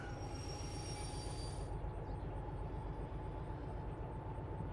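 DH4 diesel locomotive in the Derail Valley simulator game, rolling with a steady heavy rumble of wheels on rail, a high squeal fading out early, continuous and close with no talk.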